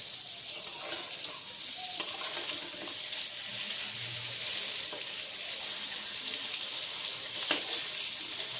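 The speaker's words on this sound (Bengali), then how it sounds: "তো আমি এখানে আবার শুকনো ময়দার মধ্যে কোট করে আমি তেলে ছাড়ছি।" Flour-coated fish pieces frying in oil, a steady, close hiss of sizzling that runs unbroken throughout with a few faint clicks, no voices.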